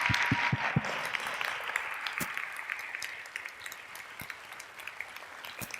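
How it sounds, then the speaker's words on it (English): An audience claps for itself in a room, a dense burst of applause with some sharp individual claps early on that thins and fades over several seconds. "I need everybody in here to clap for themselves right now."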